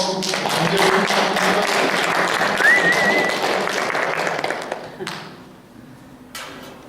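A church congregation claps for a missionary stepping up to speak, a dense burst of applause that fades after about five seconds, leaving a few scattered claps and faint murmurs.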